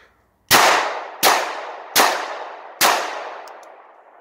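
Four loud pistol shots from a Glock 34 Gen 4 fired at a target in the woods, evenly spaced about three quarters of a second apart, each a sharp crack with a ringing decay.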